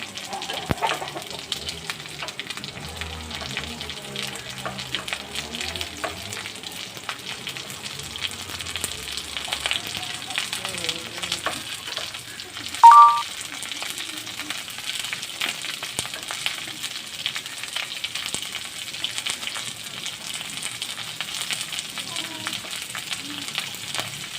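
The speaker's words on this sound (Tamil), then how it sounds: "அந்த வெங்காயத்தை எடுத்து அதில் போடுங்க வெங்காயம் நல்லா வதக்கி விடலாம்" Chopped onion sautés in a pan for a dried-fish stir-fry, a faint, even sizzle running throughout with a brief louder clatter midway.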